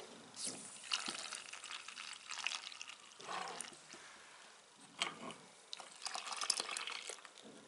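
Milk is poured into a saucepan of cocoa cake-cream mixture on the stove, making a faint, steady liquid trickle and splash with small bursts. No talking.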